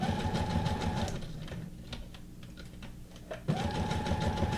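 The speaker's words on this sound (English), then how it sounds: "I'm going to just do a zigzag stitch to make this easy" Sewing machine running a zigzag stitch through paper for junk-journal ruffles, a steady close mechanical whir that slows and eases off midway, then resumes at full speed, with no talking.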